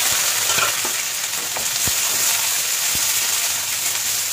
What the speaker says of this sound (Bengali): এবার পেঁয়াজগুলোকে বেরেস্তা করে নেবো, পেঁয়াজগুলোকে দিয়ে দিলাম।